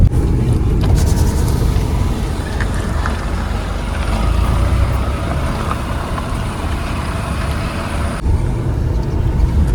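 A car grinds up a steep, dangerous narrow back lane toward a hidden Konkan beach, its engine and tyre rumble loud, close and continuous throughout, with no talking.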